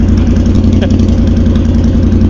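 A loud, raw motorcycle engine idles close by, a steady throaty rumble with no break in its level: a Triumph T120 fitted with a new Tec-Bike Dueller exhaust.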